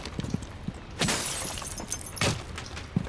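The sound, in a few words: glass breaking in video game Rainbow Six Siege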